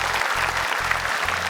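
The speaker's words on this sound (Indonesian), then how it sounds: "tepuk tangan dong untuk mamanya" Studio audience at an Indonesian televised Quran recitation competition, brief burst of dense applause, loud and continuous, with a rhythmic low backing beat underneath.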